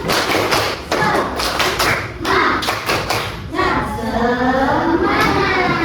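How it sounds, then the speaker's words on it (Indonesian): Children in a classroom perform the rhythmic 'tepuk semangat' spirit clap, a loud run of sharp, patterned claps and thumps followed by a burst of lively group voices. "Tepuk semangat."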